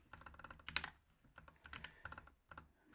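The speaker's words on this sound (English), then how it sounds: "Years of typing on a Mac keyboard here." Fingers typing on a Mac computer keyboard, rapid irregular clicks of keys in short bursts, close but quiet, with no talking.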